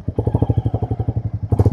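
Motorcycle engine on a ride from Butwal toward Tilicho Lake, a loud, close, rapid low thumping putter with a steady rhythm, briefly louder and rougher at the end, and no talking.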